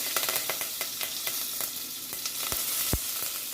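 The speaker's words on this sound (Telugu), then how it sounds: "ఇంకా ఒక రెండు ఎండుమిర్చి ఆవాలు కొద్దిగా చిట్పట్లాడిన తర్వాత కొంచెం ఇంగువ కొద్దిగా కరివేపాకు" Mustard seeds and two dried red chilies spluttering in hot oil for a horse gram sambar, a steady sizzle dotted with sharp pops and a couple of louder cracks near the end, no speech.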